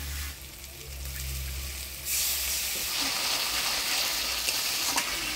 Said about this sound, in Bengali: মশলাটা ভালোভাবে কষিয়ে নিলাম